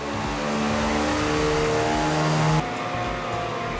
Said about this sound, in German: Wir haben jetzt mal die GP 350 auf den Prüfstand gestellt.